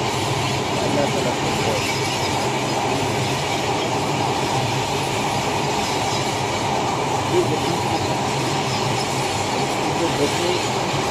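A train runs over the railway tracks on the way to Bhanga railway junction, a continuous loud rumble and rattle of wheels heard from on board, with people's voices mixed faintly into the steady noise.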